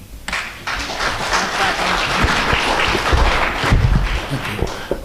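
Audience applause at a city council meeting in Sonoma, a sustained burst of clapping from a crowd in a hall lasting several seconds, fairly loud and dense, with no talk over it.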